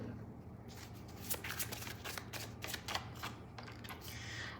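Tarot cards being shuffled and drawn by hand, a quick run of close, crisp riffling and flicking card sounds in a quiet room, with no talking.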